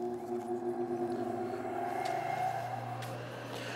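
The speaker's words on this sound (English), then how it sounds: "As you hear, these start up a lot slower." A Gast regenerative blower motor spins up slowly, a steady mechanical whir with low hum that gradually shifts in pitch as it gains speed, fairly loud and close throughout with no talking.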